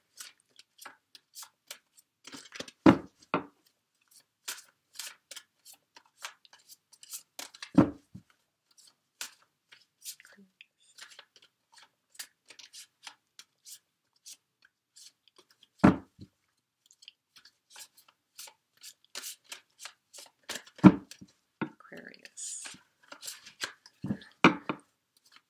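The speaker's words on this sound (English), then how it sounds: "Thank you for being patient while I shuffle." Tarot card decks being shuffled indoors: scattered soft clicks and riffling snaps, with a few sharper slaps every several seconds, fairly quiet and close, with no talking.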